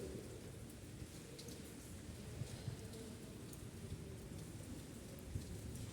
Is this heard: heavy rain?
yes